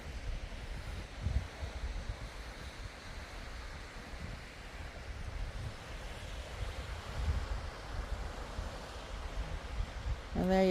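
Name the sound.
cold wind at the seaside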